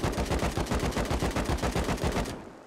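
A standard AK rifle firing in the Rust video game on console, one sustained burst of about twenty evenly spaced rapid shots that cuts off near the end, close and punchy, with no talking.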